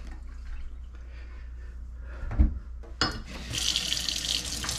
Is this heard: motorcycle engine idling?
no